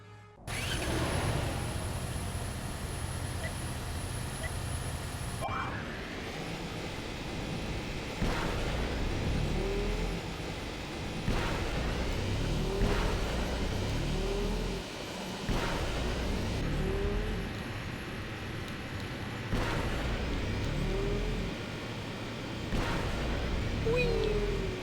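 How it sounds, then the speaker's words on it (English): A swoop racing engine in Star Wars: Knights of the Old Republic II roars continuously, rising in pitch and then dropping back in repeated cycles as the racer shifts and accelerates, with sharp impact-like bursts between surges and occasional speech over it. "I can hear my engine."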